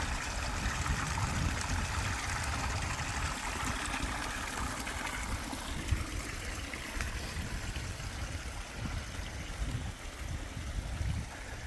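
Water pours and flows steadily into a garden ecosystem pond with a wetland filter, a continuous trickling, gurgling rush heard close up for the whole stretch with no talking.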